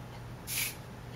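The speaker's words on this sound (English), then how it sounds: "but it has like a really awesome spray" A single short hiss of a hair product spray bottle misting onto curly hair, brief and fairly close, over a quiet background.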